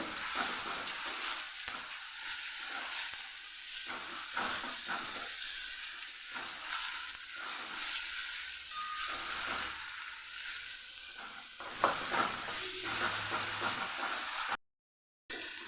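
Onions, garlic and chillies sauté in a pan with a continuous broadband sizzle and rhythmic stirring swells, then a louder clatter near the end before a brief drop to silence.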